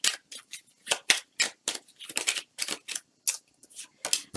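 Tarot cards slipping and dropping during a shuffle, a quick series of crisp, papery flicks and slaps in an irregular rhythm, close and fairly quiet, with no voice over them.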